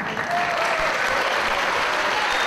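A wrestling crowd at the SFX in Dublin applauds steadily throughout a 2005 IWW Supershow match, a dense, sustained wash of clapping from the packed hall with no gaps.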